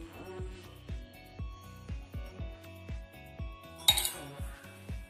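Flour and instant yeast stirred together in a bowl for donut dough, giving a steady rhythm of light metallic clinks and taps from a spoon against the bowl, fairly close, with one brighter scraping clatter near the end.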